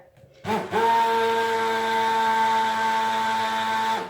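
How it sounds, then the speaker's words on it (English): Electric stick blender whirring steadily while submerged in cold process soap batter, starting up after a brief stutter and running loud and continuous for several seconds with a steady motor hum and no talk. "see how I'm keeping the blender underneath the surface all the time?"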